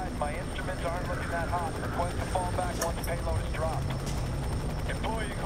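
A steady helicopter drone in the video game F.E.A.R. 3 rumbles in the background while people talk over it.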